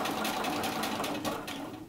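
A sewing machine runs steadily, stitching a set-in sleeve into a garment, its needle pulsing in a fast, even rhythm up close.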